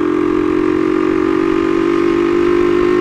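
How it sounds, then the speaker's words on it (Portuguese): Dafra Speed 150 motorcycle from 2009 being ridden, its engine giving a steady, loud, close droning hum at a constant pitch throughout. "Uma motozinha bem gostosa de se pilotar, bem forte."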